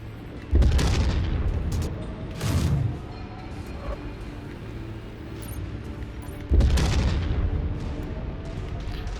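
Enemy weapons fire and explosions in MechWarrior 5: heavy booming impacts, one near the start, a second a couple of seconds later and another near the end, over a low rumbling battlefield drone, no talk.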